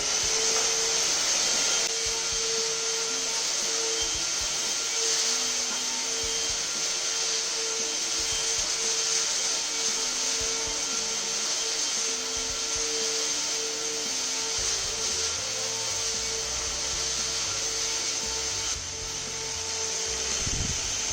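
A KENT 16068 Zoom vacuum cleaner running on max mode, giving a steady, loud high-pitched whine and airflow hiss that holds for about twenty seconds with slight shifts in tone.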